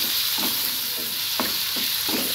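Tomato masala for onion egg curry sizzles steadily in hot oil while a spoon scrapes the pan in several short, regular stirring strokes, close and clear with no talking.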